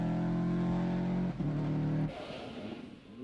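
A rally car at speed on a stage of the 1995 Lurgan Park Rally, its engine holding a loud, steady note, dipping briefly as if shifting gear, then breaking into a rougher, fading roar as it goes past.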